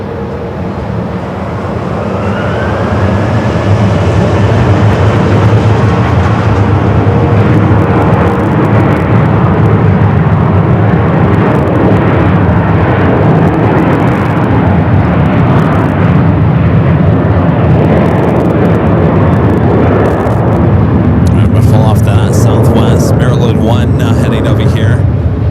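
A Boeing 737-800 airliner departs Phoenix Sky Harbor for Seattle with a loud, sustained jet engine roar that builds and holds throughout, while a voice talks over it.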